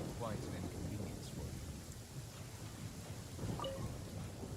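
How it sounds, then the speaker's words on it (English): Heavy rain pours steadily in the video game Genshin Impact, a dense, even wash of sound with faint rumbles of thunder beneath it. "This heavy rain must be quite an inconvenience"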